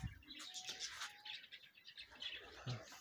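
Young racing pigeons coo and chirp faintly at a loft during a race return, with soft, scattered calls and a few low coos amid quiet outdoor ambience.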